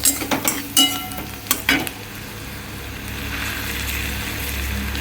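A spoon knocks and scrapes against a pan as chopped garlic is stirred in hot oil for a tarka, a few sharp clatters early, then an even, soft sizzle that continues alone.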